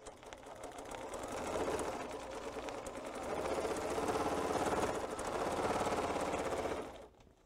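Sewing machine running a 4 millimeter stitch, its rapid even needle chatter rising after a second and holding steady for several seconds before cutting off abruptly, close and alone.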